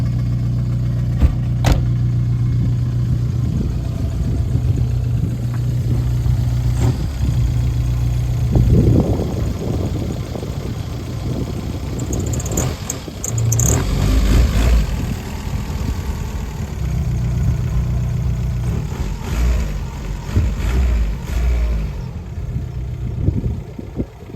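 An Audi A3 TDI diesel car idles with a low steady engine drone, then revs and pulls away, the engine sound swelling before fading into the distance outdoors.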